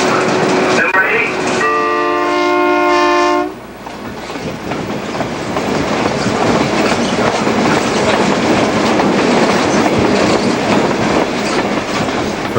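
A Newfoundland Railway diesel locomotive sounds a long multi-tone horn, then a heavy, continuous engine rumble and rolling rail noise carries on loudly and close for the rest of the stretch.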